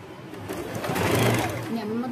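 Sewing machine stitching along a folded seam in cloth, a steady whirring run at moderate loudness with talk over it.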